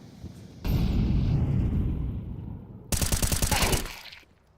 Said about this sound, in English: Yabi sending a couple of bullets to the smoke, and it's a perfect headshot on Jello.